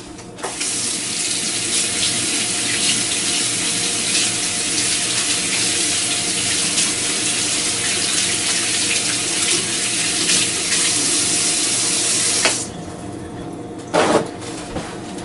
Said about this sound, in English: I'll give my hands a quick wash.